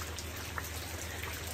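Rain falling steadily during a monsoon downpour in rural Odisha, a soft continuous patter with scattered drop hits and a faint low hum underneath, fairly quiet and without talk.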